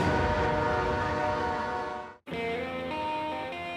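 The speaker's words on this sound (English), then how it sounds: "Phil and Jeff pilot their train carrying the polar bear trap over the last frozen river and into Moosonee." A train runs through the snowbound woods of Northern Ontario about ten miles out of Moosonee, carrying a polar bear trap across a frozen river; a steady, loud rumble with tonal horn-like hum drops out briefly, then resumes, with no talk.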